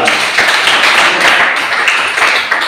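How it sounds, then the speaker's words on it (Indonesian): A classroom full of people clapping, a dense, steady wash of applause that carries on evenly for a few seconds. "berikan tepuk tangan untuk kelompok 2"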